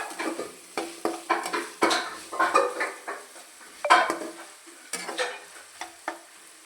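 Okra, tomato and onion being stirred and sautéed in a pan, with a spoon scraping and clacking against the metal in irregular strokes over a soft sizzle, close up and with no voices.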